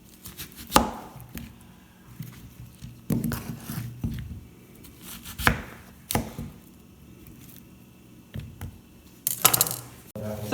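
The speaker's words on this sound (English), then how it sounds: "you're gonna go ahead and cut the squash in another half" A knife chops through squash for Haitian soup joumou, giving sharp, separate thunks against a board at irregular intervals, with quieter handling noises between the cuts.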